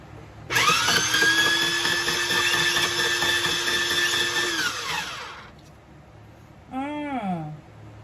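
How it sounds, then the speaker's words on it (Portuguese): A motorized vegetable slicer fitted with a wavy blade runs to slice cucumber, giving a steady high whirring drone for about five seconds that winds down, followed by a brief rising-pitched whir. "Coloquei a lâmina ondulada, que eu vou fatiar primeiramente o pepino"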